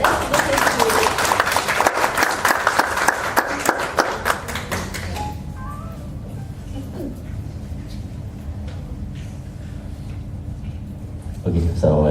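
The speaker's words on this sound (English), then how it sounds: "let's give a big clap and applause to Mr. Azharuddin." Audience applause at a company annual general meeting, dense clapping filling roughly the first five seconds, then fading to a quiet room with low murmurs before a brief stir near the end.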